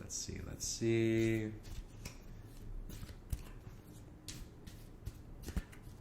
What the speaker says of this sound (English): I don't like to bend the cards either, so I kind of like do like this little nice, smooth shuffle type thing